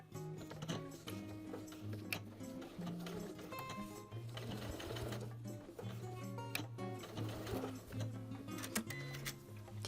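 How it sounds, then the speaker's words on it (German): A sewing machine stitches belt loops onto the waistband of a pair of jeans, its needle running in steady, busy bursts close by and fairly loud throughout with no talking. "Bei diesem markierten Abstand werden sie nun parallel unterhalb der Buntansatznaht festgesteppt."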